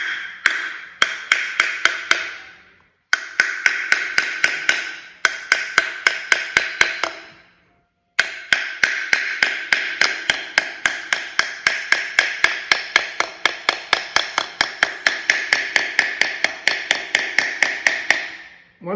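Rapid metallic taps of a small hammer on a BMW M4's brake dust shield, in steady bursts, close and sharp, pausing twice before a long run of quick, evenly spaced strikes.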